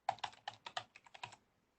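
Quick burst of about a dozen crisp key presses on a computer keyboard, close and clear in a quiet room, fading out at the end.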